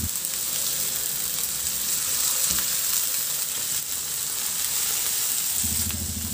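Tomatoes sauté in a hot pan for ginisang ampalaya, a loud, constant sizzle with scraping stirs on top and a brief clatter near the end.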